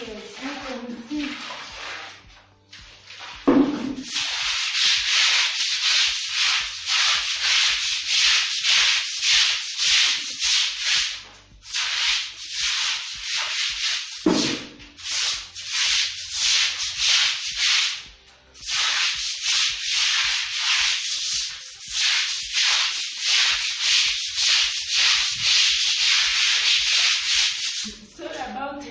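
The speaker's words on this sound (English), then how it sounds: "I have to put the water first, and then I sweep the water" Water being swept across a dirty floor of a room during cleaning, a steady broom-like scrubbing and swishing that runs continuously with brief pauses, close and fairly loud.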